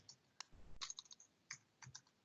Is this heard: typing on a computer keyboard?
yes